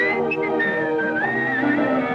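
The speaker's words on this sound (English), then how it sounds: "When you hear me whistle" A man whistles a sustained, gliding melody in an old Hollywood musical film, clear and close, with soft accompaniment beneath.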